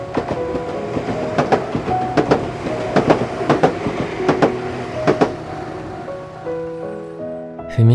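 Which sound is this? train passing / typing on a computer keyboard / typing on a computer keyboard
train passing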